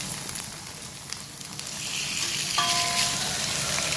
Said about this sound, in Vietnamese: đậu mình chỉ cần rán vàng như thế này là được rồi nhé